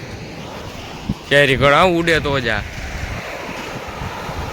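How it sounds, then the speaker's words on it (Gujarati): Steady rush of surf and wind noise from sea waves on the shore at Porbandar fills the clip, with a short burst of a person talking partway through. "લહેરોને જુઓ"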